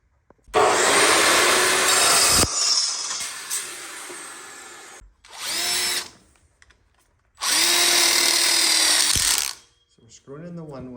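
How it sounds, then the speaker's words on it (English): A power drill drives a one-way screw into wood while an outdoor kitchen burner module is assembled, in loud close whirring bursts separated by pauses, the last burst shorter. "So we're screwing in the one way."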